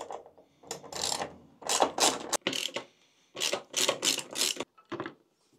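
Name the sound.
removing screws from a car panel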